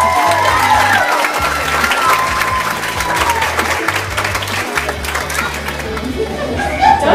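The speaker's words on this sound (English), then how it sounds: "Big round of applause." Applause and cheering from an audience, loud close clapping mixed with crowd chatter and raised voices, while low musical tones play underneath.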